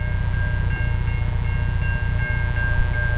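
A train rolls past close by a road where a BMW K100 motorcycle with sidecar waits, a loud, steady rumble of rail noise with faint tonal whine and no talking.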